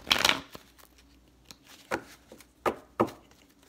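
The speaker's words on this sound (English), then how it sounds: "My cards is pre-shuffled, but I will always shuffle them near the camera" Tarot cards are shuffled up close in a few quick riffling bursts, with soft taps and pauses between them.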